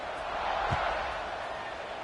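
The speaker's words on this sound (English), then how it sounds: "this crowd is buzzing after that last score" Steady, dense murmur of a large football stadium crowd after a touchdown, a broad continuous roar at a distance with no distinct peaks.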